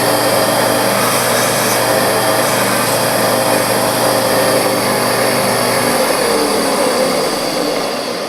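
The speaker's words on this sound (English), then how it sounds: "that means I'm drilling this brass at 92 SFM." Brass being drilled on a metalworking machine at slow cutting speed, a steady loud mechanical whir and hum running continuously, easing off at the very end.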